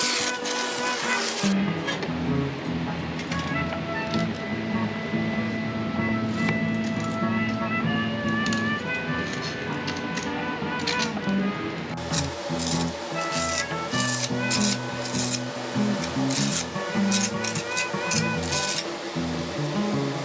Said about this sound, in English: Fill in the void with thinset and then we back butter with ridges on the back of our caps.